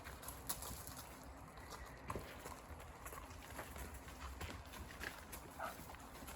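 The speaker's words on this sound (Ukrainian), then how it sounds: "А ось і коні дикі йдуть." Soft, uneven hoof clops from several wild horses walking at a distance over a steady outdoor background, with scattered faint knocks.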